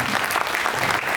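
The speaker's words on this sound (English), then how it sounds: "Let us give him a round of applause," Audience applause at a community celebration welcoming an honorable guest, steady dense clapping filling a short burst with no break.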